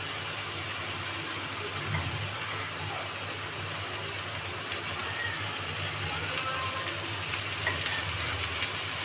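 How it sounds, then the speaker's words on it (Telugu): Eggplant slices sizzle steadily in a frying pan as oil is poured around them, a dense, even crackle and hiss that never lets up. "ఇప్పుడు చుట్టూరా ఆయిల్ అయితే వేసుకుందాం."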